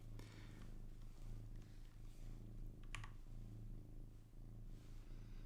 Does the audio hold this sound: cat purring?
yes